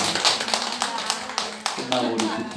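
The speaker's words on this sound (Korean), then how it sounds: "박수 한번 합시다." A church congregation claps together in a sparse, uneven patter of hand claps. A voice speaks over the clapping throughout.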